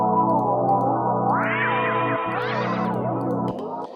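Ableton Delay set to different left and right timings repeats a bright, chorus-like synth line, echoes overlapping and swelling as the pitch sweeps upward, loud and close with no talking.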